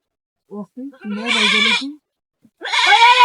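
A goat bleats loudly and close by, two drawn-out wavering cries separated by a short pause, with a few soft vocal sounds before.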